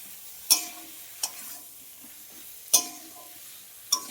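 Eggplant sautéing in a pan, a low sizzle punctuated by four sharp scrapes and clatters of a spatula stirring against the pan at irregular intervals, with no voices.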